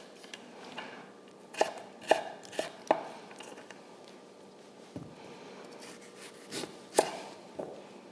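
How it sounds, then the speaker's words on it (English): Knife cutting vegetables in half on a board while preparing a Vietnamese-inspired dinner, with a few scattered sharp chopping thuds standing out against quiet kitchen background. "I'm going to cut them in half."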